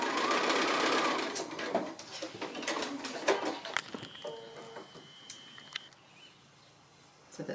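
A sewing machine stitches the seams of a quilt block, a fast steady whirring at close range that starts and stops in short bursts, with a pigeon cooing faintly in the background.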